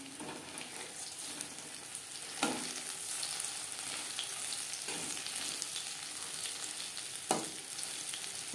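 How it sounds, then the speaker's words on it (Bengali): Cauliflower florets coated in batter deep-fry in hot oil over a medium flame, giving a steady close sizzle with a few sharper spatters and utensil clinks along the way. "মিডিয়াম ফ্লেমে ক্রিস্পি করে ভেজে নেব"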